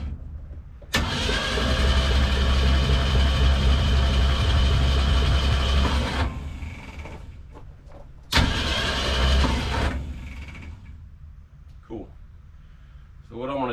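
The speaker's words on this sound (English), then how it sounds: "put my thumb over each cylinder while it's cranking" The engine of an abandoned 1964 Ford Econoline van, unrun for 37 years, cranks loudly up close for about five seconds, pauses, then cranks again in a shorter burst, with people talking around it.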